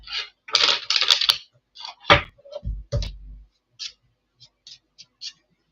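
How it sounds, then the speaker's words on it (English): Tarot cards being shuffled during a spirit-message reading, giving a run of crisp clicks and riffling flutters, one firm slap, then scattered light ticks fading toward quiet. "let me shuffle again"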